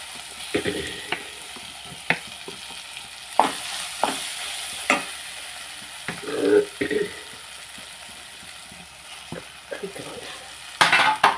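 Potatoes in a frying pan are stirred with a utensil, giving intermittent scraping knocks and clatters over a faint low sizzle, close by and without speech.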